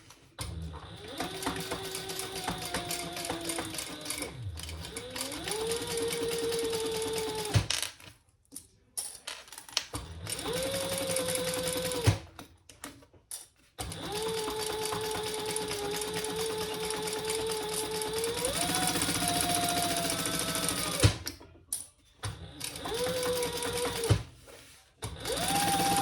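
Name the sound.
sewing machine stitching to close off a zipper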